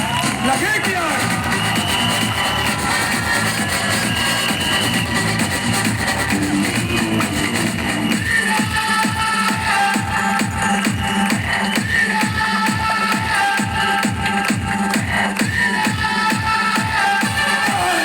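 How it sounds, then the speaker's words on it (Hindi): A seminar audience in Ayodhya breaks into rhythmic clapping with cheers and crowd noise, the claps settling into a steady beat partway through while voices carry over the top. "अरे यार जरा तालियां बजा दो, शोर मचा दो"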